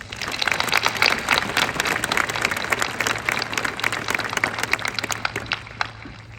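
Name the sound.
audience applause for teachers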